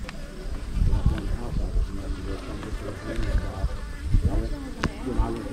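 Honeybees buzzing around a beehive, a steady dense hum with occasional louder passes near the microphone, under someone talking.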